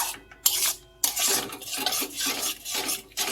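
A spoon scraping and stirring cauliflower roast masala with 50 g of yogurt in a pan, close rasping strokes in an uneven rhythm with a faint sizzle underneath and no voices.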